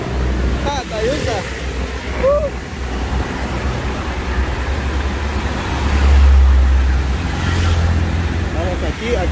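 A swollen river roars after heavy rain beside a bridge, a loud constant rush of water buffeted by wind noise, with faint voices and chirps above it and a low rumble growing louder midway.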